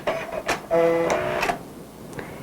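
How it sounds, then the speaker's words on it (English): The automatic thread cutter on a Brother NV950 sewing machine runs after a buttonhole, giving a short mechanical whirring buzz with a few clicks before and after, close and moderately loud. "So I'll just touch the thread cutter"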